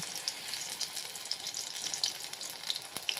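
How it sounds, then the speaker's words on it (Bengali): Lentil and spring onion pakoras frying in hot white oil over a medium flame, giving a close, continuous crackling sizzle full of fine pops and bubbling spits, with no voices. "তারপর তেলটা গরম হওয়ার পর এখানে আমি একে একে ঠিক এই সাইজের পকোড়াগুলো দিয়ে দেব।"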